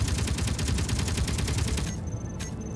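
Rapid automatic gunfire in a video game airbase raid, a fast steady burst of shots for about two seconds, then it cuts off, leaving quieter ambience with a faint tone and one brief later shot.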